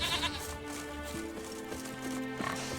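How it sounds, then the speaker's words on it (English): Goats bleat over a low, steady music and ambience bed in the video game The Witcher 3: Wild Hunt, with a few short, wavering calls rising near and moderately loud. "Pigs, goats, being friends."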